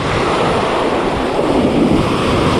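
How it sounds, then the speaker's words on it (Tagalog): Waves surge and break against rocks beside a bridge where people are fishing, a loud, continuous, roaring wash that swells slightly toward the end, with no voices over it. "lalaki na alon"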